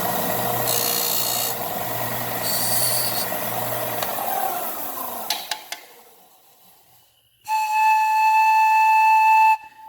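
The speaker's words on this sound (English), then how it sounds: "I'm just going to clean the mouthpiece of this one up" A wooden pan flute pipe's mouthpiece being filed and rasped clean, rough scraping strokes in bursts, then a pause before a clear whistling pipe tone rings out near and steady.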